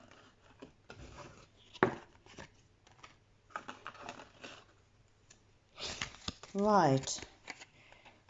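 Tarot cards are shuffled by hand in bursts of soft riffling and rubbing, close and fairly quiet, broken by brief speech and a louder voiced moment near the end.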